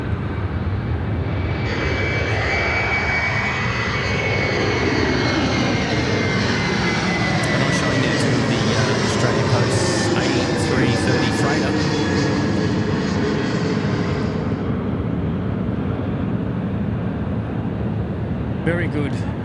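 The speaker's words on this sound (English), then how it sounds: "This is the replay showing here of the Qantas A330" Qantas Airbus A330 jet taking off at Sydney Airport, a loud sustained engine roar whose pitch sweeps as the aircraft passes and climbs away, with voices talking over it.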